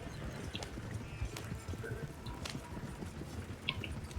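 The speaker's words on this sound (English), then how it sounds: "you can whistle for your horse. And he should follow." Horse hooves in Red Dead Online clatter in a steady clip-clop as the animal approaches after a whistle, moderately loud over faint ambient game sound.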